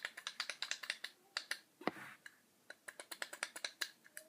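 A handheld fidget toy with a clickable rolling ball gives sharp, close clicks in quick rhythmic runs, broken by a short pause and a small rattle partway through.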